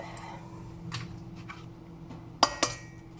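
Eggs cracked one after another against a bowl while making a Halloween cake, giving two sharp, close clinks of shell on the rim over a quiet kitchen background.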